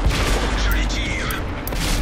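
Tank cannon fire in World of Tanks, a dense run of booming shots and battle noise held at a steady loud level, with a few sharp cracks standing out.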